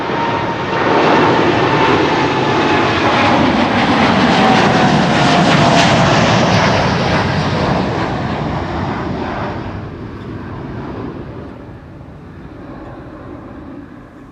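A Boeing 787-9 airliner at Amsterdam Schiphol Airport roars loudly, a broad engine rumble that builds and then slowly fades as the plane moves away, with no voices.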